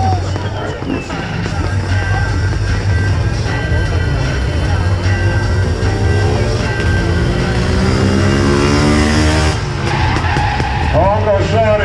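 At a moto stunt show in Inčukalns, a motorcycle engine roars loudly and continuously with rising and falling revs and tire noise, crowd murmur faint underneath.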